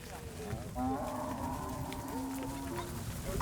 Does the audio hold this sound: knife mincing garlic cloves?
no